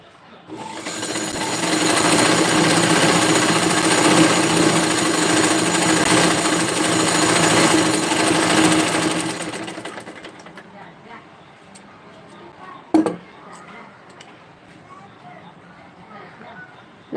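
A normal domestic sewing machine stitching a dress runs in a loud, steady rapid chatter for about nine seconds, then stops, leaving quiet room sound with a single sharp knock.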